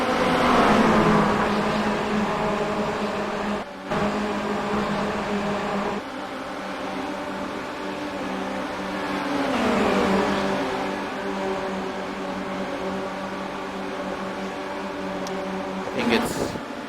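Formula Renault 2.0 open-wheel race cars lapping Monza in a racing video game, a steady layered engine drone of several cars with rising and shifting pitch, brief dips and a sharp burst near the end, continuous and fairly loud.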